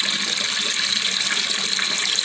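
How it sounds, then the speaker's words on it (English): Water runs steadily back into a toilet tank after the valve is opened, a constant close hiss with no breaks and no voices. "turn on the valve, water flows back into the tank, and hopefully it stops where that mark is"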